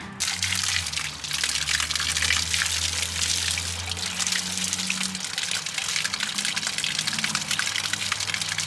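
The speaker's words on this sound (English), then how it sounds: "turn on the water pump, turn on the sink, and see if it works, I guess. It's got some air in the lines." Water gushes from a pop-up camper sink tap, sputtering and surging with air in the lines over a low pump hum, loud and close for the whole stretch without speech.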